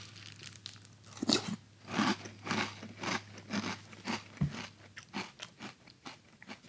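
Canadian Corn Pops cereal being chewed up close, a rhythmic run of crisp crunching bites spaced about half a second apart, quiet and with no talking.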